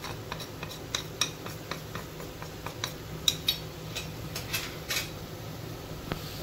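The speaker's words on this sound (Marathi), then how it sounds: "कांदो मिक्स करता" A spoon clinks and scrapes against a pan while onions and spices are stirred for a dry Goan-style clam dish, a steady series of light metallic taps and knocks over a low background hum.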